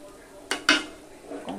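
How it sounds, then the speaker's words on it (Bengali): A spoon scrapes and clanks twice against a wok as chicken is stirred with bay leaf and whole cumin tempering, followed by a soft, brief clatter. "চিকেনটাকে এবার সুন্দর করে একটু মিশিয়ে দিব"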